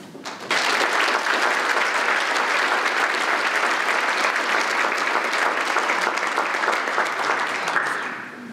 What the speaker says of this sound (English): How about one more round of applause for this awesome group?